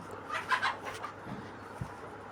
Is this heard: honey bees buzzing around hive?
no